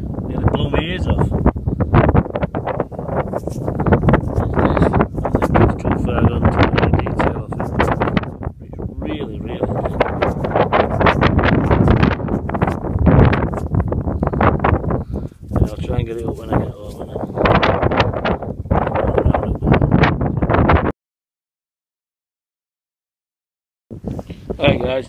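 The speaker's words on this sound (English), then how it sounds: "don't know if you can hear me with wind, it's really bad" Strong wind buffets a microphone outdoors on a windy day in Lincolnshire, giving loud, continuous rumbling gusts that pause briefly near the end while someone talks under the noise throughout.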